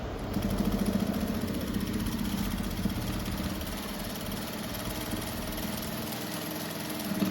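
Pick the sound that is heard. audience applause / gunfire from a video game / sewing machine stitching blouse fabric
sewing machine stitching blouse fabric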